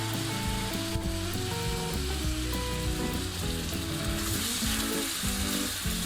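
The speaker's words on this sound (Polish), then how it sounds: "Z gotującej się fasolki nabieram troszkę wody i wlewam na patelnię" Steady loud sizzling and crackling from a hot frying pan, with a brief burst as water from boiling beans hits the oil, continuing evenly without voices.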